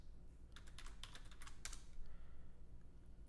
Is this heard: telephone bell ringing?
no